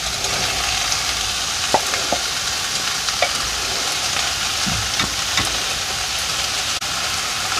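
Cabbage frying with onions and sausage in a pan, a constant loud sizzle with occasional soft clicks and scrapes of stirring.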